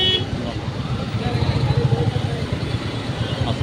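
A Royal Enfield Bullet motorcycle rides through morning city traffic, its steady thumping engine close and continuous, with other vehicles around and a brief horn toot.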